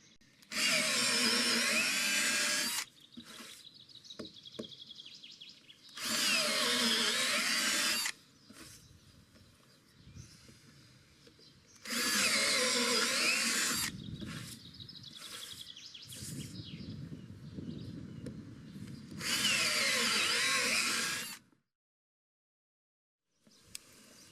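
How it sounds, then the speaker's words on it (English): A power drill whines loudly in four long bursts on a sailboat under construction, enlarging holes, with quieter workshop handling noises and faint background sounds between the bursts. "because I'm going to do the old drill"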